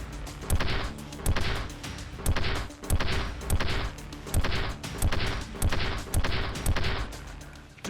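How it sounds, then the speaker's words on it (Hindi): A gun fires in a regular rhythm, about a dozen sharp, loud blasts spaced roughly half a second apart, each with a brief echoing tail, alone without talk. "ट्रिगर दबता है, धमाके के साथ बुलेट निकलती और फायरिंग के साथ ही गन का बैरल बैक डायरेक्शन में गन की बॉडी के भीतर जाता है।"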